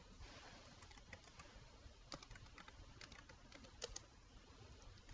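Typing on a computer keyboard while building a PowerPoint footer: soft, irregular key clicks in short bursts over a faint steady hiss, no talking.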